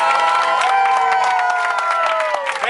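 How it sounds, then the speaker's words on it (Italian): Passengers on a tour bus heading to a desert party in Sharm el-Sheikh cheer, whoop and clap together, a loud, dense crowd noise with shouted voices sustained throughout. "Prima di tutto applauso"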